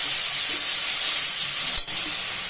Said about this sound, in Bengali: আমি একটু জল দিলাম।